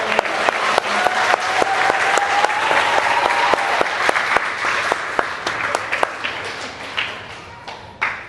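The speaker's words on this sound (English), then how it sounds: "We have one more round of applause for all of their achievements this year." Audience at a 6th grade elementary school promotion ceremony applauding, a dense, loud round of clapping from a large crowd that holds steady, then tapers off with a few scattered claps at the end.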